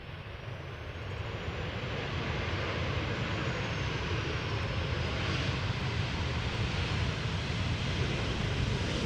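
KLM airliner landing at Amsterdam Schiphol Airport, a steady, loud broadband engine roar that swells slightly as the jet comes in, with no talk over it.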